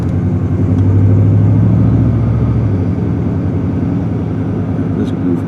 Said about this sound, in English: WRX with a loud exhaust. Those boxers sure sound kind of neat.